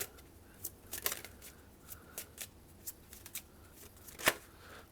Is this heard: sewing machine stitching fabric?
no